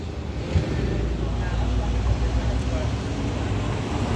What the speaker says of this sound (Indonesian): jam 6 sore ternyata muncul bus Sinar Jaya pasukan Banjarnegara yang pertama